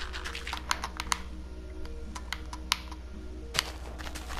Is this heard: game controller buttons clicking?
yes